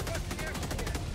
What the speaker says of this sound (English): Just standing here democratically as the turrets do the work.